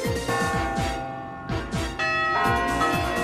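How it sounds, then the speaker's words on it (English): A church bell rings repeatedly over a sustained musical backdrop, its loud, steady strikes echoing through the scene as trolls flee from it. "Frightened by the bell, the trolls all run away."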